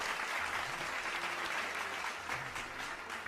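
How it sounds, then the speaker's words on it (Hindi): A crowd at a Vedic astrology conference applauds a guru being honoured with a turban, giving steady, dense, sustained clapping that stays fairly distant and even throughout. "जोरदार तालियां बजाओ।"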